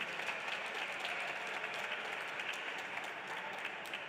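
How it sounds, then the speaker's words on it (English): An audience applauds a performer at an evening community arts celebration at the Parthenon, with steady, dense clapping sustained throughout at a moderate distance and no voices on top. "One more round of applause for my brother Cameron."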